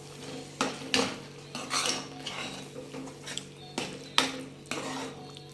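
Eggplant bharit is stirred with chopped coriander, a spoon clinking and scraping against a metal pot in irregular bursts, with a faint sizzle underneath and no voices.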